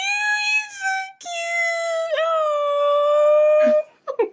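A pet kitten crying in long, drawn-out wailing tones up close, two sustained cries followed by a few short whimpering yelps.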